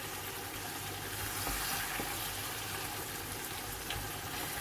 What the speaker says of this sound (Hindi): इसको इतना भून लेंगे कि ये मसाला यकजान हो जाए, ऑयल नजर आने लगे।